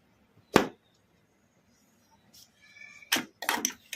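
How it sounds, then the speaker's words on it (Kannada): A plastic lid is pulled off a mixer grinder jar holding freshly ground spice powder in a home kitchen, giving one sharp close click followed by a pause and then a cluster of rattling clacks. "ಈಗ ಮಿಕ್ಸಿ ಜಾರ್ ಮುಚ್ಚಳ ತೆಗೆದು ನೋಡೋಣ"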